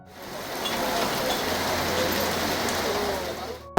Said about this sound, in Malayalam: അപ്പോൾ നല്ല മഴ പെയ്യാണ് കേട്ടോ